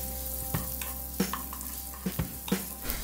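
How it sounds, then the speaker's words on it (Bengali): Cumin seeds and chopped garlic fry gently in a little hot oil for a drumstick-leaf stir fry, a soft steady sizzle with a few brief stirring scrapes at irregular intervals. "তেল গরম হলে দিয়ে দেব জিরে আর রসুন কুচি। এটাকে হালকা করে ভেজে নেব।"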